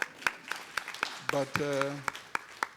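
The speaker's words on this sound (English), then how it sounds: "Please, an applause for everybody." At a field epidemiology meeting on pandemic preparedness, sharp, evenly spaced handclaps repeat at a steady rhythm, distinct and fairly close. A voice speaks briefly in the middle of the claps.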